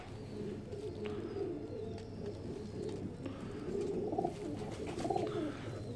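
Low, soft pigeon cooing from a breeder pigeon repeats in short phrases against a murmuring background, with faint distant chirps mixed in.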